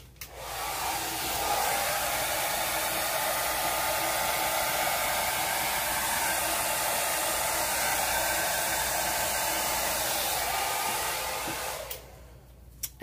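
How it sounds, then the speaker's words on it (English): A hair dryer blows acrylic paint across a Dutch pour painting with a steady, loud whooshing hum for most of the clip, then clicks off near the end. "And hit it with the hairdryer again."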